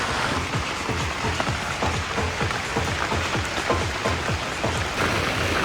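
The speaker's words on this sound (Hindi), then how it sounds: "अभी देखो कितनी तेज़ बारिश हो रही है बाहर" Heavy rain pours steadily outside a shelter on the Kheerganga trek near Kasol, a dense continuous hiss of drops drumming on nearby surfaces, close and loud with no talk.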